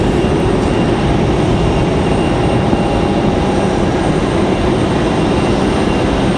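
A KC-130 military transport aircraft at Raleigh Durham International Airport produces a loud, steady broadband engine roar that holds constant throughout without any break or change.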